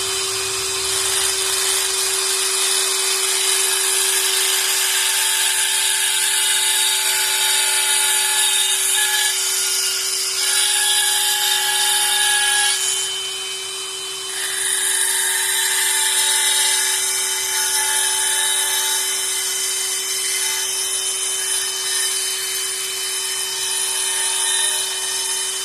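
High-pitched, steady whine of a rotary grinder shaping a metal tent stake into septum jewelry, close and continuous with a constant tone, briefly dropping in pitch and load midway before resuming.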